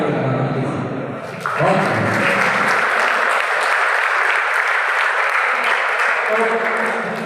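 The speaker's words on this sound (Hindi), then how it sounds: "आप अपने लिए तालियां बजाइए।" Sustained applause from a crowd, dense clapping that swells after a brief lead-in and carries on steadily.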